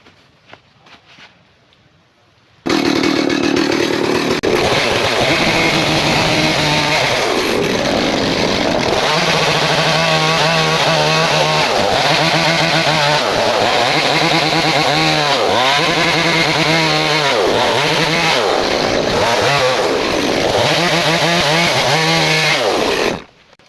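A chainsaw cutting and shaping wood for a boat bursts in after a brief quiet and runs loud and close for about twenty seconds, its pitch dipping and rising as the blade bites into the timber.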